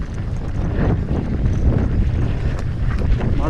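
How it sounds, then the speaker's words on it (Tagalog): Strong wind buffeting a microphone on a mountain bike trail, a loud continuous low roar with gusty rumble throughout and no clear talking. "Pusog ang hangin guys."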